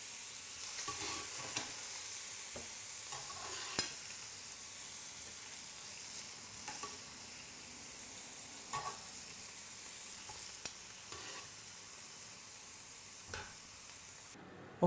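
Shrimp frying in a pan for a prawn dish, a steady low sizzle under intermittent clicks and taps of stirring, fairly quiet throughout with no talking.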